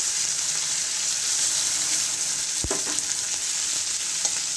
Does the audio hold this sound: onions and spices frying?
yes